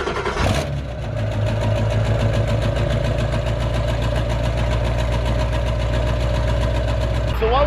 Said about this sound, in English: So we're gonna go ahead and get the truck unlocked and fired up.